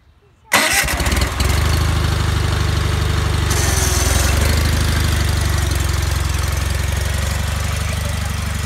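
A cold John Deere 318 lawn tractor engine cranks briefly, catches and settles into a loud, steady, throbbing idle heard close up.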